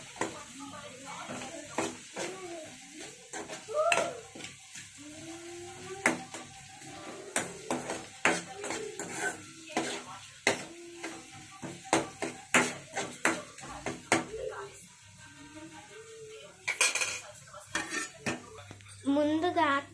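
Ginger garlic paste is stirred into onions in a pan, a spoon clattering and scraping against the metal in repeated, uneven knocks over a faint sizzle, close by.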